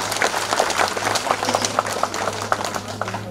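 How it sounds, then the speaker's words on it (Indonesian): Audience applause at an inauguration ceremony in Tana Toraja, a steady patter of many hands clapping at moderate distance, over a low constant hum, with no talk. "Kita berikan aplaus dulu."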